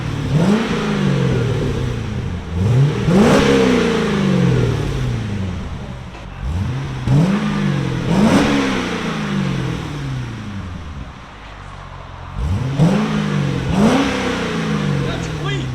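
A 2008 Chevrolet Corvette with an LS3 V8, X-pipe and 14-inch Magnaflow mufflers revs hard in repeated sharp blips, each one climbing and falling off, loud and close, with voices faintly underneath.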